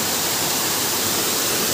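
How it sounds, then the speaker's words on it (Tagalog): Boiling, steaming water in a clear hot spring gives off a dense, continuous rushing and bubbling noise, loud and unbroken. "kumukulo talaga yung tubig, umuusok"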